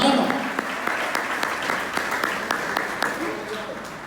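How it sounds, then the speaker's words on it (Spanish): A congregation claps at a Spanish-language evangelistic church meeting, a loud continuous round of applause with distinct nearby hand claps and voices mixed in underneath. "Denle fuerte el aplauso al Dios de los cielos, hermano."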